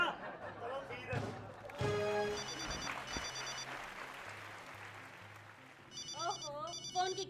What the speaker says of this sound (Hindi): फोन की घंटी बज गई।